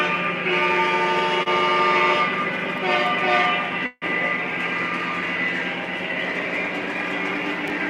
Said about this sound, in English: And one last honk of the horn here.